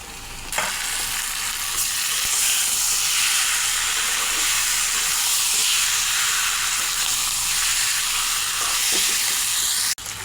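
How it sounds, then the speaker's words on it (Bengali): Chicken pieces frying in a pan with whole spices and chopped onion for chicken kosha, a steady loud sizzle and hiss running throughout with faint stirring scrapes and no voices. "মাংসটা আমি কিছু সময় ভেজে নিয়েছি"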